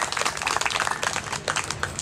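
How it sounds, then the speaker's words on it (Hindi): Audience at a community gathering on social thought and Vedic religion breaking into a dense, steady round of applause for office bearers, many hands clapping together without a break. "मैं चाहूंगी ऐसे कर्मठ पदाधिकारियों का एक बार जोरदार तालियां बजा करके आप सभी स्वागत करें।"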